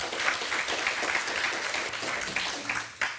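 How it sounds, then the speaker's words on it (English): Audience applause at a space resources conference session, a steady wash of many hands clapping in a hall, sustained for several seconds before tapering. "a big round of applause for him."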